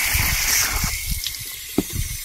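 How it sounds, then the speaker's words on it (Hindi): Water runs steadily from an open tap at a hillside home in Uttarakhand, a broad hiss that fills the short clip, with some faint knocks and splashes mixed in. "ये देखो नल चला हुआ है, ये पानी कहीं लगा है"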